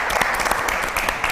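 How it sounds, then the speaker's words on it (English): A room full of people applauds, dense broadband clapping that runs steadily through the moment at a fairly loud, even level with no individual claps standing out. "Round of applause."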